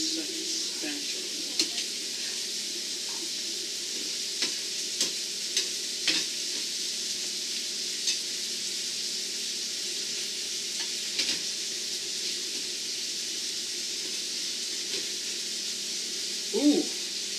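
Potatoes fry with smoked paprika in a pan, giving a steady sizzling hiss, while a spatula scrapes and stirs in occasional light strokes.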